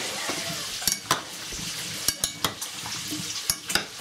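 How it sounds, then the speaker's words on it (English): Bacon crisping in a pan, a steady sizzle broken by sharp clicks and taps of a utensil stirring and scraping, close and moderately loud with no talking. "So we're just finishing up the bacon here. It's nice and crispy"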